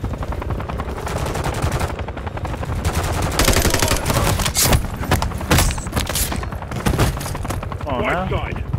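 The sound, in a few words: gunfire in Call of Duty Modern Warfare 3 video game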